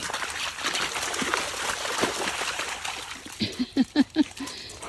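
A dog wades and splashes in creek water, soft sloshing at first, then a quick run of four or five distinct splashes close by near the end.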